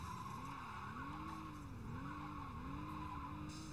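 A super car races and skids in the video game Saints Row 2, tires squealing in repeated wavering arcs over a steady engine drone, fairly faint throughout.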